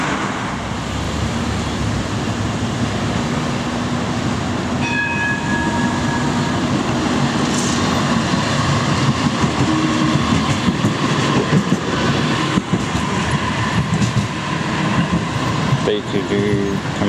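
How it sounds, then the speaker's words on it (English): A D2 Combino tram runs through Melbourne as a Flemington race extra, its steady rolling rumble and rail noise close and continuous, with brief squeal tones partway through and faint voices in the background. "D2 Combino on Flemington Race Extras."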